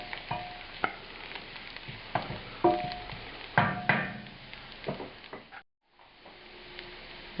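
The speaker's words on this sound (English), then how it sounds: "Now we're adding the celery, 30 grams of diced celery" Diced celery fries with onions in a pan, a steady crackling sizzle broken by repeated wooden knocks and scrapes of stirring, with one brief drop to silence near the end.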